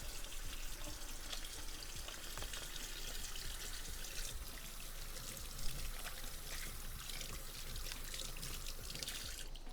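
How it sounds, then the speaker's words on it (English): Running tap water splashes steadily into a sink as hands are washed in an outdoor cooking setting, a continuous faint trickle and pour for the whole stretch with no talk. "I just gotta wash my hands."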